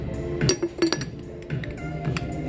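A ceramic teapot lid is fitted onto the pot in a shop, giving a few close, sharp clinks and scrapes in quick succession, with a quieter clink shortly after.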